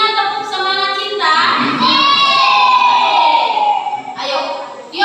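A fourth-grade class of children in a classroom stands and performs the tepuk semangat clapping chant, their voices loud and massed together as one continuous, excited group shout lasting throughout.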